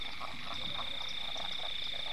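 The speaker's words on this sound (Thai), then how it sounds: "มีกบอยู่2ตัว" Small frogs croaking at night in a wet field, a steady chorus of rapid, repeated croaks with a continuous high-pitched trill behind them, moderately distant and unbroken.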